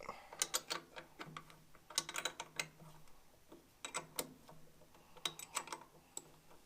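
Ratchet wrench clicking in quick bursts while taking intake manifold bolts off a barn-find Cockshutt 90 tractor, close up, with short pauses between the runs of ticking.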